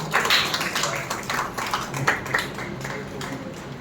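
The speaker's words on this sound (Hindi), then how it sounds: "अच्छे और सारगर्भित व्याख्यान के लिए ताली तो बजा दीजिए आप लोग" An audience claps together after a Hindi lecture on the role of Hindi journalism in the independence movement, a dense, steady patter of many hands filling the hall for a few seconds.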